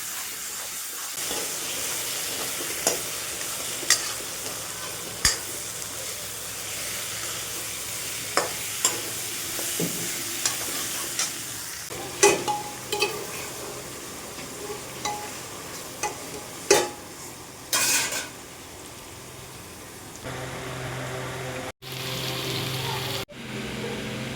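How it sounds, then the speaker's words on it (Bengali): Steady frying sizzle of potatoes and onions in a pan, punctuated by sharp clinks and scrapes of a spatula stirring, with a few louder bursts near the end. "আলু পেঁয়াজ ভাজা হয়ে গেছে ওপর থেকে মাছের তেলটা দিয়ে দিলাম"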